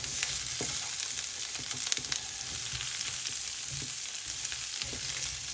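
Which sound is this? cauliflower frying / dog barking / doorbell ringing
cauliflower frying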